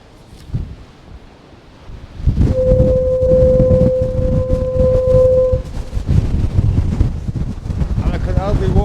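Strong storm wind from Storm Darragh buffets the microphone on the Cornwall coast path near a lighthouse, a loud, continuous roar with gusts, plus a steady foghorn-like tone for a few seconds in the middle.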